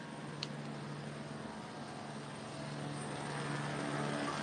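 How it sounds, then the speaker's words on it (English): Police helicopter hovering overhead near a district police station during an escalating night situation, a distant, continuous rotor and engine drone that swells slightly toward the end, with no talk. "Clearly that helicopter has its spotlight, its searchlight on something."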